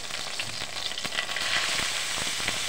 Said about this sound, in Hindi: अब इसी कढ़ाई में हमने 2 चम्मच तेल और डाल देना है। अब इसमें हमने डालना है प्याज